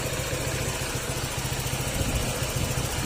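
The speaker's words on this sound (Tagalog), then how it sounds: "Mapapansin nyo yung tunog ng makina." A Honda ADV 160 scooter engine idles close by, a loud, steady, even rumble that never changes pitch, its earlier engine ticking now fixed.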